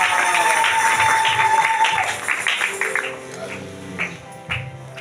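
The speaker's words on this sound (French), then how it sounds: "Acclamez pour le Seigneur Jésus." A congregation claps together in a French-speaking church service, a dense burst of applause for about three seconds that then thins out as voices take over.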